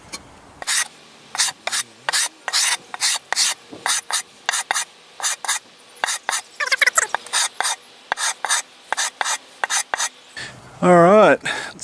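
Sandpaper rasps in short repeated strokes along the edge of an oil stone to chamfer it, close and crisp, with a brief voice near the end.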